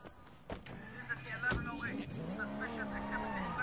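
Car driving in the open-world video game Sleeping Dogs: a revving engine with tire squeal and skidding, fairly faint, under someone talking.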